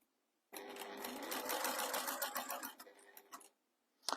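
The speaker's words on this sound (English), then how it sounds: "We're stitching at an eighth of an inch, just basting" A sewing machine runs a continuous eighth-inch basting seam for about three seconds, a close, fast, even stitching rattle that stops abruptly, followed by a few soft clicks.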